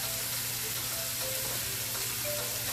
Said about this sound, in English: now I'm going to go in with about a tablespoon of butter